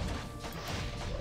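An orc burrow collapses under attack in Warcraft 3, a dense, loud crash of crumbling structure filling a brief moment with continuous rumbling debris and no talk.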